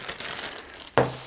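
A plastic bag rips open while a Ligawo 6518762 WiFi HDMI bridge and 3x1 switch is unboxed: ongoing crinkling, then one sharp, close tearing burst about a second in, followed by steady rustle.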